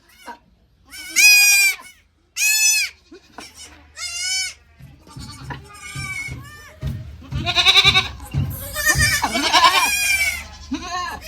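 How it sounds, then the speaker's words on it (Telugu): Karumbi dwarf goats bleating close by, with a run of loud, wavering bleats, some short and some drawn out, that come in quick succession and sometimes overlap. "కరంబీ జాతికి చెందినవి అనమాట ఇవన్నీ. వీటిని అయితే చాలా జాగ్రత్తగా చూసుకుంటాం పొట్టు మేకల్ని."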